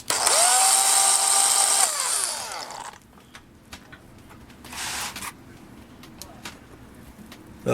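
A power drill bores a hole while fitting a Varney coupler upgrade, a loud steady whine for about three seconds that winds down, followed by near-quiet with a few faint clicks and a brief noisy burst.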